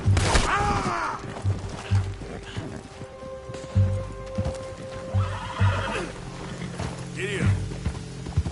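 A horse in Red Dead Redemption 2 whinnies loudly several times while its hooves clip-clop in a steady galloping rhythm, close and prominent, with faint game effects underneath.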